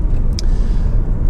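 A Honda Civic 1.6 i-DTEC diesel engine idles after a cold start on a cold day, a loud, close, low rumble holding steady with a faint brief high tick early on.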